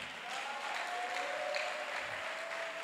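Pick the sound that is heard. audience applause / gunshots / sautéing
audience applause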